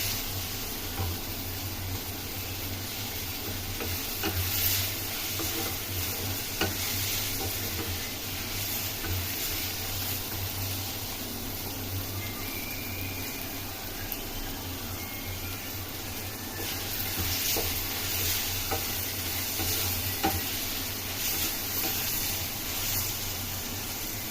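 Onions and tomatoes sauté in a pan for mushroom gravy, giving off a soft, steady hiss that holds level throughout with no talk.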